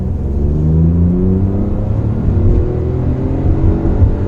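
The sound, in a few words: Hyundai i20 N Line engine revving to 6,000 RPM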